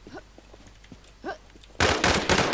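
Gunfire from players in the online survival shooter WarZ: a few faint blips and a short voiced sound, then an abrupt loud burst of rapid automatic shots that keeps going to the end.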